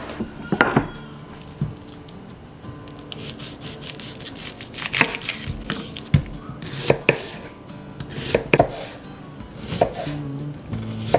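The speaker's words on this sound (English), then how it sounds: "This is usually the part in the onion cutting process where I'm crying." A knife cuts onions on a cutting board in a home kitchen, with irregular close knocks and slicing strokes coming in bursts with brief pauses between them.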